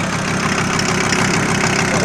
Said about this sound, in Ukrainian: Нормально, от такого працює мотор.